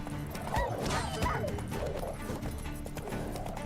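Horse hooves clip-clopping in The Witcher video game, with a neigh and game sounds layered over a busy mix of fighting wild dogs and music, steady and close throughout.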